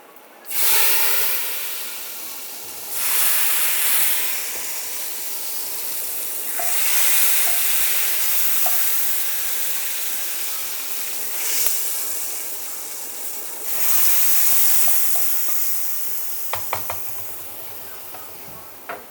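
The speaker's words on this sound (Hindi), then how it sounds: "तड़का हमारा लग गया है" Hot oil tempering (tadka) for daal sizzles loudly and steadily in several long hissing bursts, with a few clinks of utensils near the end and no talking.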